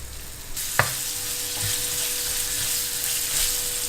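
Chopped onions hit hot oil already seasoned with spices and dried red chili, giving a loud, steady sizzle after a brief clatter as they drop in, with a stir partway through.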